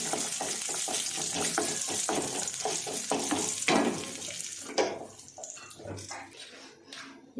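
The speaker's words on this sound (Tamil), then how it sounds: "இதில் கொஞ்சம் முந்திரியும் திராட்சையும் போட்டு வறுத்துக்கணும்." Cashews and raisins fry in a spoonful of ghee for pineapple kesari, giving a crackling sizzle broken by repeated stirring scrapes that thins out toward the end.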